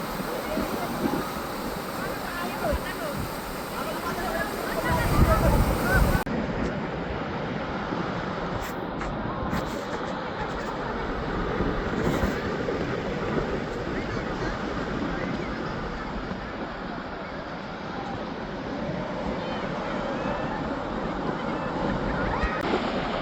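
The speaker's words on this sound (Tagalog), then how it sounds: "Sobrang lakas ng alon guys, no? Talagang pang surfing talaga dito." Powerful surf at San Juan, La Union, a beach known for surfing: a continuous roar of crashing waves mixed with wind rumble on the microphone, loud and close throughout.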